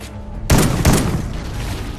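Gunfire in a Call of Duty video game: after a quiet lead-in, a sudden loud volley of shots lands, with a second sharp shot close behind and a lingering rumbling tail.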